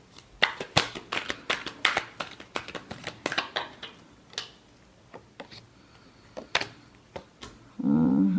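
Tarot cards are shuffled by hand in a series of quick riffling flicks and soft slaps, close and irregular, ending with a brief shuffle of rustling.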